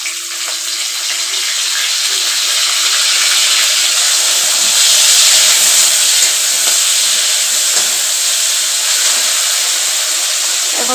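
Fish fried in hot oil with crushed garlic gives a loud, steady sizzling hiss that swells slightly and holds unbroken for the whole stretch, close and with no talking.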